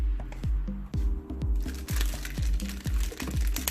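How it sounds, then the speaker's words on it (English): Plastic bag crinkling as a wireless access point (RG AP820-L V2) is pulled out of it, a run of short crackling squishes over steady low hum, close and moderately loud. "Removing it from the plastic bag"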